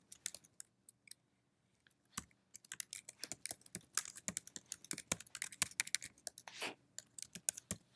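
Quick bursts of typing on a computer keyboard while entering a title, with irregular clicks starting sparse and then running in a dense, close patter with brief pauses.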